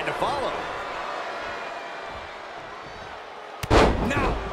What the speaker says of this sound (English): Oh, and a clothesline to follow.